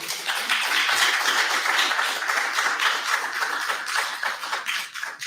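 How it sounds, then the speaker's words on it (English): An audience applauds at a talk, a dense, steady patter of many hands clapping that stays even for several seconds before thinning slightly at the end. "One more round of applause for Joshua Burford."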